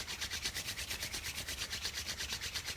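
Palms rubbed vigorously together, a fast, even swishing rhythm of roughly seven strokes per second, close and steady with no talk.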